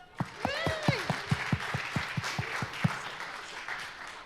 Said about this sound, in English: Come on, round of applause for us.